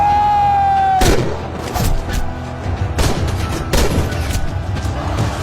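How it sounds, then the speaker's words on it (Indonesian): Gunfire and heavy booms from a battle at a fort in an Indian film, opening with a steady tone before loud blasts crack in at irregular intervals over a rumbling background. "Isarsik melakukan tembakan pertama sebagai petanda mereka siap untuk berperang"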